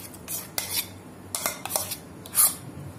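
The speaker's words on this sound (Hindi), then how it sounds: "अब हम मलाई डाल देंगे कढ़ाई में।" Cow's-milk cream is scraped and dropped into a kadhai for making ghee, giving several short metallic clinks and scrapes of a utensil against the pan, fairly close with quiet gaps between.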